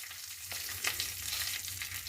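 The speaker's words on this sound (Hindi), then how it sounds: "बची हुई तेल में अब हम कुछ कड़ी पत्ते ऐड कर देंगे।" Curry leaves crackle and sizzle in leftover oil with chili powder and turmeric for murmura namkeen, a soft continuous fry with a few sharper pops and stirring scrapes, close and steady.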